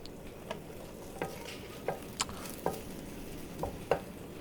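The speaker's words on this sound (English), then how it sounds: "So you can just stir it and put the vegetables that I prepared." Vegetables frying with Korean fish cake in an oiled pan are stirred, a soft steady sizzle broken by light, irregular scraping and clicking taps from the utensil, no voices.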